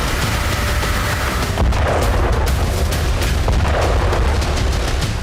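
An Iskander missile strike in Novodonetsk, Donetsk, comes through as a loud, continuous rumbling roar of blasts and crackling debris, with no clear pause throughout.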